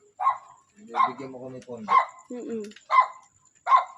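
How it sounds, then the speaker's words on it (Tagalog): A dog barks in a cemetery during a nighttime exploration: five sharp, evenly spaced barks ring out at middling distance while people talk in between. "Ay, may aso."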